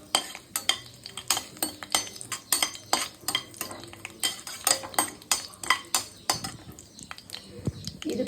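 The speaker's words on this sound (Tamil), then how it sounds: "லவங்கம் இதெல்லாம் பொரியுது." Cinnamon and cloves crackle in hot oil in a pan while a metal spoon scrapes and clinks against it in a quick, steady rhythm, close and fairly quiet, with no voice.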